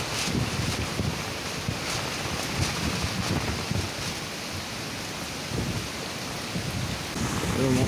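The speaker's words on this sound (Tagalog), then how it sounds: "lakas na yung hangin sa kanyang ulan." Typhoon rain pours steadily under Signal No. 1 conditions while strong gusts buffet the microphone, a dense, continuous roar with no letup across the whole stretch.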